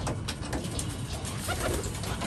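Pigeons in a racing pigeon loft coo steadily and close by, a soft continuous murmur of several birds with no talk over it.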